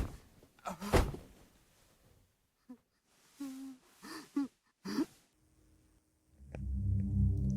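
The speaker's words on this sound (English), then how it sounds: "It's the sound of Jimmy beating Curly to keep him still." Brutal thuds and muffled impacts from Jimmy beating Curly in the video game Mouthwashing, scattered blows with gasping, strained breaths between them, ending in a low rumbling swell.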